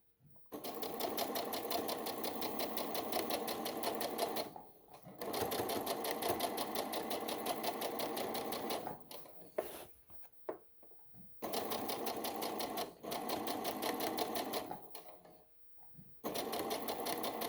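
A sewing machine stitches lace onto a dress hem in long steady runs, pausing briefly every few seconds and starting again, quiet and close with no talk.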